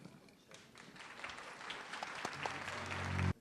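Audience applause for a singer at a model pageant show, a continuous dense clapping that swells toward the end before cutting off, with a sustained musical tone entering beneath.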